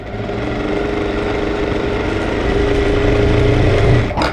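A sewing machine runs continuously as it stitches a blouse seam, a steady close mechanical whir that grows slightly louder before stopping abruptly, with no talking.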